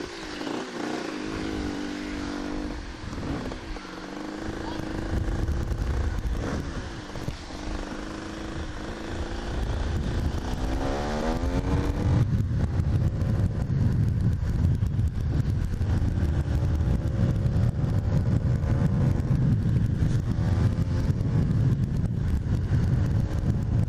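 A car passes on a village street, its engine note rising and sweeping by, then settling into a loud, rough, continuous engine rumble close by.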